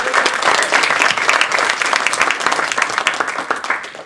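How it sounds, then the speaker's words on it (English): Audience applause at a Toastmasters table topics contest: loud, dense clapping from a full room that sustains evenly throughout, with no speech over it. "let's give a round of applause for Frank"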